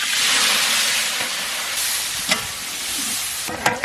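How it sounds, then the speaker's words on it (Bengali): Bitter gourd fries in hot oil for a Bengali shukto curry, a steady broadband sizzle that runs close and loud throughout, broken by a few sharp spatula scrapes and clicks near the end. "তাই উচ্ছে তেলে দিলাম।"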